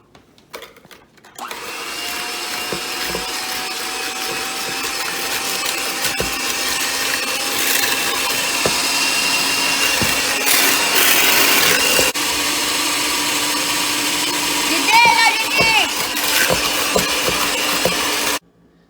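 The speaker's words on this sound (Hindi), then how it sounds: "मैं ये फेंटूंगी जब तक ये गाढ़ा हो जाए" An electric mixer whirs steadily for about seventeen seconds, beating eggs and sugar in a bowl until thick, a continuous motorized drone with slight pitch shifts and a few clinks near the end.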